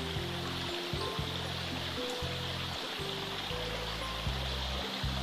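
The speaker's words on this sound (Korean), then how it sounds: "계곡 옆에 계곡입니다" Mountain stream flowing through a valley, a constant close rushing and burbling of water with a low steady hum under it, unbroken for the whole stretch.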